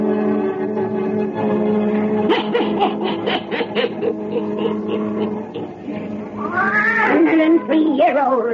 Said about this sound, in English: the witch of Salem, and Satan, her wise black cat